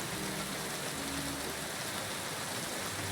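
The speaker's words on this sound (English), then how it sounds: "And it's raining constantly." Steady rain pours in the medieval open world of Kingdom Come: Deliverance 2, a constant even hiss with a faint low tone underneath and no talking.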